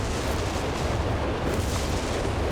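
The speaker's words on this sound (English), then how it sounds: "Three walking Stukas all firing here." Walking Stuka rocket artillery in Company of Heroes 3 fires in a dense, rumbling barrage, several launchers at once, producing a continuous loud roar of overlapping blasts during a 4v4 battle.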